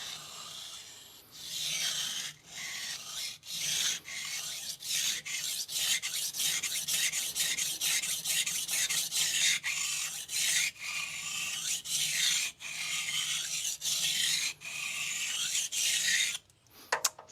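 A TOSA Japanese carbon steel Shirogami santoku, 165mm, is drawn across a Shapton Rockstar 320 grit whetstone in steady, close rasping strokes, dozens of repeated passes with brief pauses between them and no talking.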